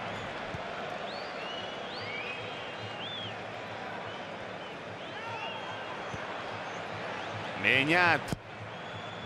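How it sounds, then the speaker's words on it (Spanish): A stadium crowd applauds at San Mamés during an Athletic Club versus Rayo Vallecano LaLiga football match. A steady, broad roar sits under a commentator's talk, with a brief louder burst near the end. "Aplaude la catedral."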